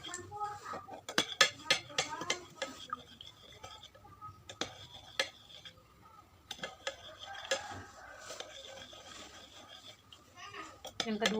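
A spoon clinks and taps against a glass while stirring salt into water, with irregular bursts of sharp clinks and ticks across the whole stretch, some louder and some faint.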